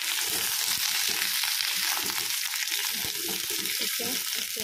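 Fish frying in a pan, a loud, continuous close-up sizzle with crackling bursts and occasional stirring scrapes, steady from start to finish.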